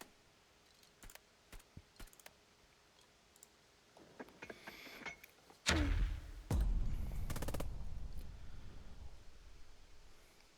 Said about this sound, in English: Let's drop a mortar on them.